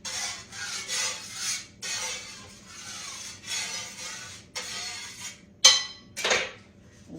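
A peeler or knife scrapes repeatedly across a potato in a home kitchen, producing a run of close, short rasping strokes with brief gaps and a couple of sharper knocks near the end.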